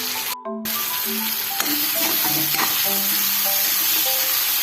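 Chicken pieces frying with tomatoes in a masala gravy, a steady close sizzle with occasional stirring scrapes, no voices.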